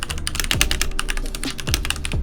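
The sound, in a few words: typing on a wired Keychron C2 full-size keyboard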